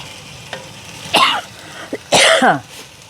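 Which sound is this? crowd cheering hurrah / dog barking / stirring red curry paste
stirring red curry paste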